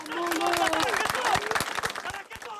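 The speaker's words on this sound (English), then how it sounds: "and a spontaneous moment of applause." Applause and crowd noise at a journalist's funeral, her press vest raised above the coffin, with clapping spreading through the mourners alongside murmured voices and a few raised calls.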